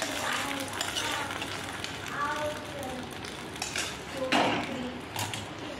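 Hot tempering with cumin seeds poured over chutney, giving a steady crackling sizzle with a brief sharper burst partway through, with faint clinks of a pan and utensil.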